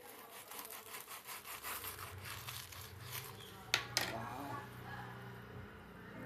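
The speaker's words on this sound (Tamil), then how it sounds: "ஸ்நாக்ஸை வந்து நம்ம அப்படியே கட் பண்ணி எடுக்கலாம்." Knife sawing through a crispy fried potato box snack, with steady rhythmic scraping strokes close up, ending in two sharp crunchy cracks.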